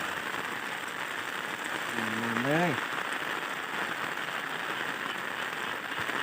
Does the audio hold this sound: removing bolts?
no